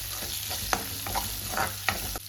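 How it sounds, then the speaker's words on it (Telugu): Tempering seeds crackle and fry in a tablespoon of hot oil for a green chilli and tomato chutney, a steady close sizzle broken by a few sharp spoon scrapes and stirs. "1 టేబుల్ స్పూన్ ఆయిల్ వేసుకొని తాలింపు గింజలు వేసేసుకుందాము. ఇవి వేగిన తర్వాత పచ్చడి వేసేసుకుందాము"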